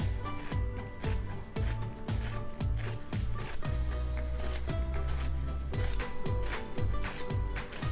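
A cheap, slightly rusted one-rupee pencil sharpener turns a pencil in repeated short grinding and scraping strokes. The sharpening is close and clear, with small clicks between turns and no talk.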